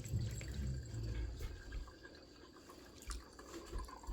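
Liquid pours and splashes as homemade apple scrap vinegar is strained, a steady wet trickle with a heavier gush near the start and a few drips and small knocks later, alone with no talk.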